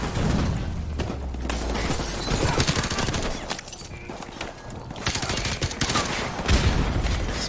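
Sustained automatic gunfire sprayed in Call of Duty Modern Warfare Remastered, dense rapid bursts with booms and battle clatter throughout, loud and close.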